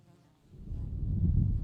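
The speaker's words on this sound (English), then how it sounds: "so these mosquitoes and flies will get away" Low insect buzzing hums close by outdoors in Norway, quiet at first and then swelling into a steady drone of flies and mosquitoes.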